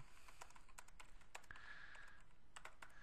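Clicks of a computer keyboard while typing a sticky note in an online collaboration board, a quick irregular burst of keystrokes at close range, then a pause and a few more taps.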